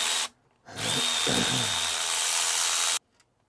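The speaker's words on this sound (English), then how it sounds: "Now you pull out the power tools." A power tool whirs in two bursts during a Mercruiser engine teardown: a brief start, a pause, then a steady, loud run of about two seconds before cutting off.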